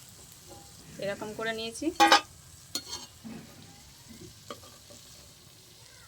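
Papad frying in hot oil gives a faint, low sizzle in the background while a voice talks over it, with a few soft clinks near the middle.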